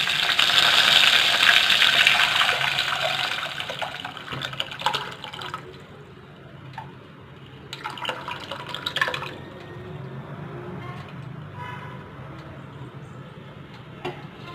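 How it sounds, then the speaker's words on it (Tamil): Tamarind water pours steadily into a cooking pot for several seconds, then trickles in short splashing bursts, close by with no talking. "இப்போ நம்ம கரைச்சி வச்ச புளி தண்ணி அதில் ஊற்றிக்கலாங்க"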